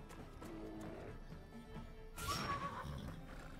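A horse in the medieval video game Wartales whinnies loudly, a sharp neigh bursting out midway over faint hoof clops and battle ambience.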